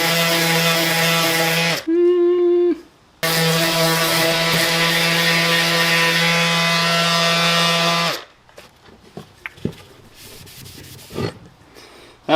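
A power sander runs on wood in a garage setting, a loud droning whine with a strong steady hum, cut off briefly and restarted, then stopping before scattered light knocks and handling noises.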